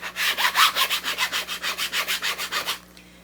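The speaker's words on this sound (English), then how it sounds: "And then I'm burnishing it. I'm burnishing this pretty hard against those magazines" An iron-on transfer is burnished hard onto a canvas laid over a stack of magazines: about a dozen quick, even rubbing strokes in a brisk back-and-forth rhythm, close and loud, then stopping abruptly.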